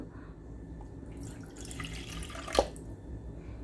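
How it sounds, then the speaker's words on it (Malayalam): Water trickles and drips from a cracked clay cooking pot being repaired, a soft steady running sound with one brief louder splash near the end, no talking. "ചട്ടിയിലേക്ക് വെള്ളം ഒഴിച്ചിട്ടുണ്ട് കേട്ടോ ദാ ചോർച്ച ഞാൻ കാണിച്ചു തരാം ദാ കണ്ടോ ഇങ്ങനെ ചോർന്നുകൊണ്ടിരിക്കുകയാണ്"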